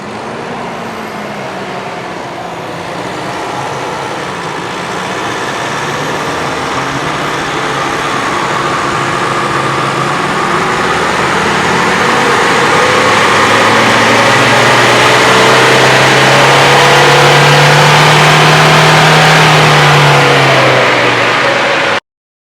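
Nissan NP300 Navara pickup engine, checked for lost power and surging, idles steadily and then revs up gradually, rising to a loud sustained high-rpm drone near the end, close up with no talk.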